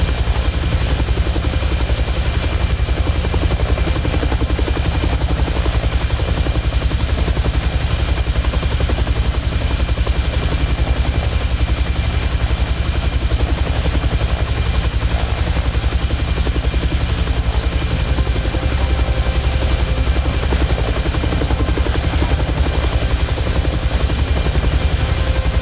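A Bell helicopter in the X-Plane 12 flight simulator, a steady loud rotor and turbine drone with constant thumping that runs unbroken throughout, no voices.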